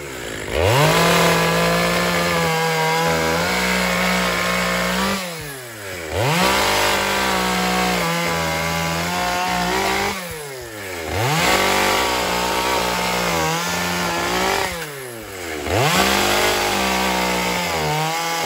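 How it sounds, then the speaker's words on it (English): A chainsaw cutting an ash log for firewood, loud and close, its engine holding a steady high whine that drops and revs back up about every five seconds as each cut goes through. No one speaks. "But something about running a chainsaw."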